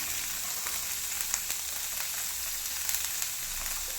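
Butter sizzling steadily in a pan while frying for palak roti, a continuous close crackle with small pops scattered throughout and no talking.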